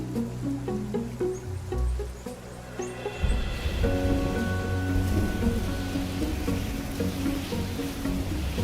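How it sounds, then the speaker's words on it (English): Rain shower in a forest building into a storm, light patter at first, then a sudden swell into dense, heavy rainfall that stays loud and steady to the end. "As the shower starts to evolve into a storm"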